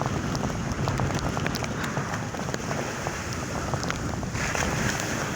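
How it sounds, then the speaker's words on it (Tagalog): Rain patters steadily over a windy, rushing background during a typhoon, with scattered drops ticking through the noise and no one speaking. "Kasama pang ulan."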